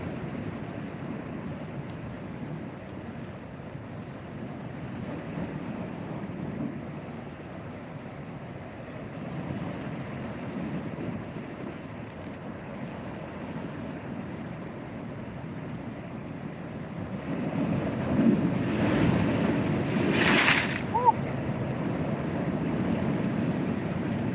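Rough water sloshing and splashing around a small boat, a steady broadband wash with wind noise that swells louder toward the end, including one sharp splash.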